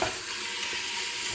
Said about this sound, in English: And just stir real quick.